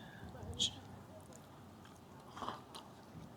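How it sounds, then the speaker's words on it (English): A crisp bite into the crumble-topped crust of an apple pie, one sharp crunch near the start and a softer crunchy bite later, close and quiet amid faint background noise. "That's a crispy crust."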